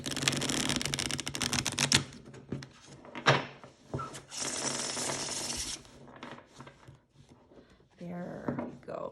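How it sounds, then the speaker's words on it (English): Fifth Spirit Tarot cards riffle shuffled by hand, a dense rasping flutter of cards in bursts, then a few softer bridging riffles and taps, close and fairly loud. "Give it a riffle shuffle"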